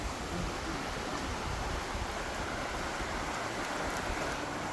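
A mountain stream swollen on a rainy day rushes along a forest trail at Barabkunda, Sitakunda, making a steady wash of flowing water, even and constant with no voices.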